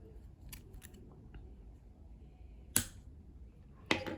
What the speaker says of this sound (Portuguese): Aí pode cortar.